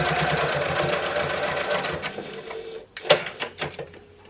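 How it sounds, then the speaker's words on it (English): Domestic sewing machine top stitching a seam on a fabric pouch at a long stitch length, a steady close mechanical whir that slows and breaks into a few short bursts near the end. "you want to just top stitch down at your top stitching length"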